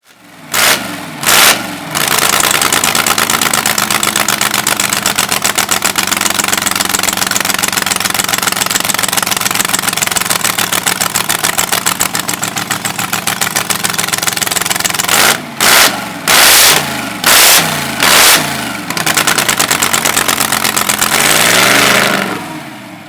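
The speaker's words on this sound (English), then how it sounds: "small block Chevy with a magnesium blower, 2-port fuel injection" Blown small block Chevy hot rod engine with a magnesium blower and 2-port fuel injection, burning gasoline, loud and close: a few sharp revs, a long steady lumpy idle, then another burst of revs before it settles.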